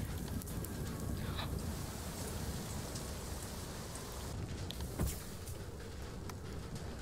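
Steady rain in the video game FAR: Lone Sails patters continuously as a soft, even hiss, with a few faint clicks and knocks on top.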